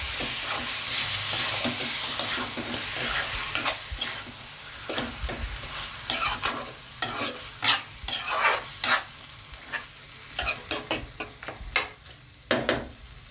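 Chicken stirred into a gongura (sorrel leaf) curry in a pan, with a steady soft sizzle under repeated sharp scraping clicks of a spoon that come in irregular bursts, close and fairly loud, with no talk.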